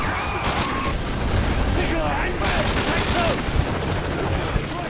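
Rapid bursts of gunfire in the video game Call of Duty: Modern Warfare 3 crackle and pop continuously, layered with booms and excited voices talking over the shooting.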